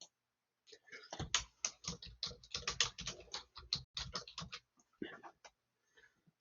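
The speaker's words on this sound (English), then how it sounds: "I'm going to type my name." Someone types a name on a computer keyboard, a quick run of close, crisp key clicks lasting about three and a half seconds, then a few scattered final taps before silence.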